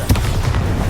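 A Bombarda spell going off in the game Hogwarts Legacy, a short heavy boom with a rumbling low-end burst filling the whole second.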